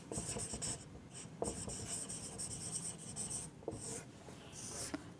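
Pen scratching on paper as answers are written out by hand, close and quiet, in short strokes broken by brief pauses.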